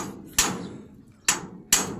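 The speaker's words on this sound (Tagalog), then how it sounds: "Kailangan kabilaan yung pukpok." Three sharp hammer blows land at uneven intervals, each a loud, crisp metallic strike standing out over a low background hum, pounding a part evenly from both sides.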